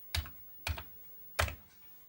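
Three separate keystrokes on a Commodore 64 keyboard, spaced unevenly and sounding close and sharp, each a crisp clack with a low thump, over a quiet background.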